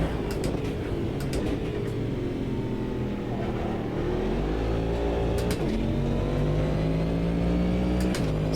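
Race car in the Automobilista 2 racing game launching hard out of a final corner during an IMSA race, its engine roaring steadily and climbing through gear changes, loud and continuous, with other cars nearby.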